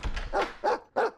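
A dog in a video game barks four times in quick succession, close and fairly loud, each bark short and sharp with brief gaps between.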